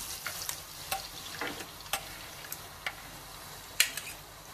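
Chopped tomatoes sizzle in a frying pan, a constant close crackle dotted with small pops and occasional sharper spits, with no voices.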